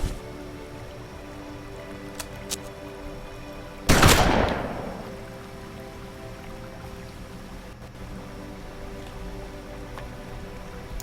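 A single sharp gunshot cracks out midway through quiet ambient video game sound in Hard West, followed by a brief fading echo and then a low steady background.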